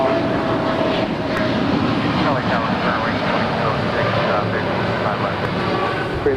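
A steady, loud roar of an airplane at Los Angeles LAX airport fills the whole stretch without letting up, with faint radio chatter and voices mixed underneath.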